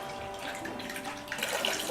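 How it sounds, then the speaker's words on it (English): Water from a hose pours into a horse's water bucket in a stable stall, a continuous close rushing and splashing that brightens slightly as the bucket fills, with no talk. "Once your bucket is 3/4 of the way full, we're going to turn off the water valve and place the hose on top of the water hook."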